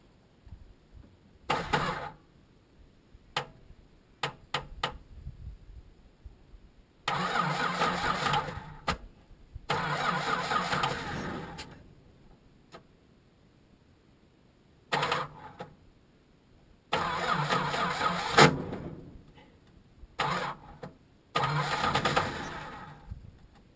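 Chrysler VJ Valiant car engine cranking after 25 years unused, repeated bursts of the starter churning and the engine catching briefly, separated by quiet gaps, nearby and fairly loud.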